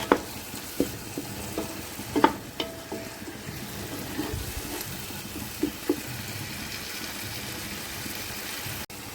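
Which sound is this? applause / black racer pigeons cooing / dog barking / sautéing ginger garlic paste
sautéing ginger garlic paste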